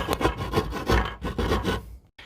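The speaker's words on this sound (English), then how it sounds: "I'm trying to create a hole for the mixer tap. Not that easy with a rasp" Rasp filing through a wooden plank laid across the head of a bath to cut a hole for a mixer tap, heard as repeated rough scraping strokes close up, about six in a steady rhythm, with no talk.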